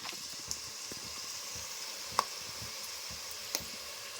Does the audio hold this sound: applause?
no